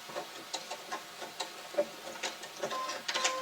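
A sewing machine stitches a petal pouch in short, quiet bursts of rapid mechanical ticking, close up with no talk.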